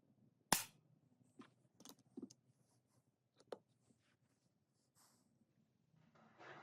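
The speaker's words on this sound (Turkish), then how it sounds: "Yani benim maç için kullandığım saçmayla atıyorum." Pardini K12 Absorber air pistol firing match pellets indoors, one sharp crisp crack near the start followed by faint handling clicks and breaths in a quiet room.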